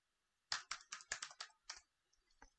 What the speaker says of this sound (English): type in the password, which is Jmicron